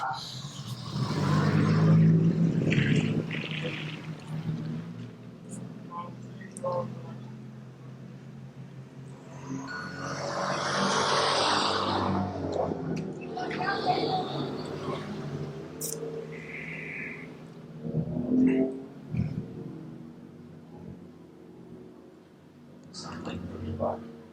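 Stock cars rolling round on a formation lap at a short oval race meeting, engines droning and swelling as the pack passes, heard under continuous commentary.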